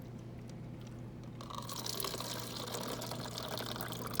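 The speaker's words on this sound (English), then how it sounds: "So go ahead and pour some down that tube." After a quiet moment, coloured water starts pouring down a tube in a steady, rushing stream that keeps going, close by and fairly loud.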